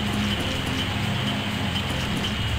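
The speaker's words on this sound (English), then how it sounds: "Wow, this rain's really coming down." Heavy rain in the Grandia video game, a steady dense patter of downpour filling the whole stretch at constant loudness, with a low musical drone underneath.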